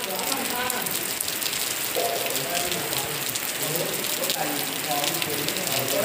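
Heavy rain falling steadily in a rural Nghe An setting, a dense continuous hiss close by with a voice talking over it.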